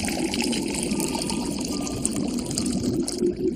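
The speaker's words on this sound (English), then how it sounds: "Take the displaced water, take the water, put it back in the hole we had earlier." Water is poured back into a hole, making a continuous splashing trickle that stays fairly even for a few seconds with no talking.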